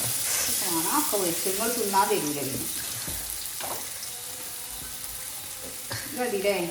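Chicken frying in a pan makes a continuous soft sizzle, with a person talking over it at the start and again near the end.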